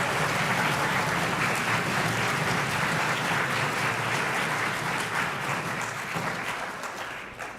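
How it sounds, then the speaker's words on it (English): Sustained, dense applause from the audience at a youth parliament event in Mizoram, clapping for all participants at the close of a session, steady and loud before tapering slightly at the end. "Let's give one big round of applause for all the participants."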